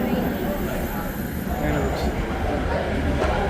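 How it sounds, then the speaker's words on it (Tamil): A metro train arrives at a station, giving a dense, steady rumble and rush that fills the space, with people talking over it. "ட்ரெயின் வந்துச்சு."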